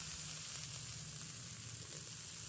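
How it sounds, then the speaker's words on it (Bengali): Spices sizzle and fry steadily in hot oil in a pan while being stirred, during preparation of a potato curry cooked with pangas fish fat; a continuous close hiss with soft scraping, no talking. "এবারে এটাকে নাড়তে থাকতে হবে ঘন ঘন, একটু ভাজা ভাজা করব।"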